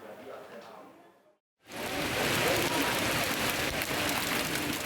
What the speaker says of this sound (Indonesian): Kota suci Mekah, Arab Saudi, diguyur hujan deras yang disertai angin kencang.